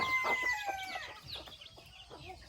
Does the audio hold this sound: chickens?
yes